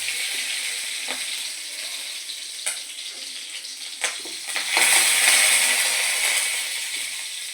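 Panch phoron, green chili and bay leaf sizzle in hot oil in a kadai, a bright crackling hiss that flares with sharp pops and swells louder toward the end, with no voices.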